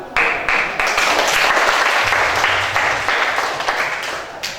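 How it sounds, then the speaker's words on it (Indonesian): A class applauds after a group presentation, steady dense clapping from many hands filling the room and running on for several seconds without a break. "Untuk itu kita beri tepuk tangan."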